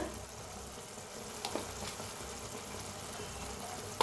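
Spice masala with salt and crushed peanuts roasts in a pan for Marathi baingan bharta, a soft, even sizzle and crackle that holds steady for a few seconds, with faint stirring scrapes.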